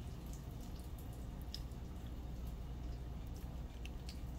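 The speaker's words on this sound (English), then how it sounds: "let me wash my hands, guys." Tap water runs continuously into a kitchen sink during handwashing, a steady close splashing wash with small drips and splatters throughout.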